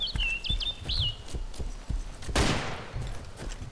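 Gunfire in the video game DayZ Overpoch, a few sharp shots over ambient game noise with chirping birds and a loud burst midway, no talk during the shots.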